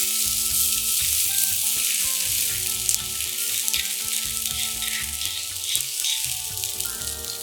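Urad dal frying in oil in a pan, a loud continuous crackling sizzle held close for several seconds with light stirring and a faint tonal hum underneath.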